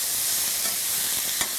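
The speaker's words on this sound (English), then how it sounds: "we are going to put in our marinated pork loin. Now listen to that sizzle." Marinated pork loin sizzles in a hot wok, a loud, steady, bright hiss of frying with a faint stir or scrape near the end.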